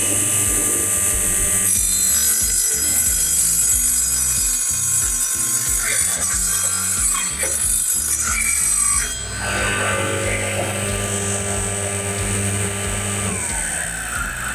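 A MOLLAR TS600 600 W table saw with a circular blade cutting wood straight at 90 degrees, heard as a loud, steady motor whine that shifts pitch as the blade works through the board, with no talking.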